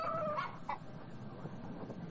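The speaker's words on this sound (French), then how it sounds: "C'est un coq noir." A black magic rooster in the video game Yes Your Grace gives a few short, faint clucks and a brief call over a quiet background.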